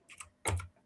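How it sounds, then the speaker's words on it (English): Quick clattering keystrokes on a computer keyboard, a few short bursts with one louder cluster in the middle, close and fairly quiet. "I can hear you going busy on your keyboard."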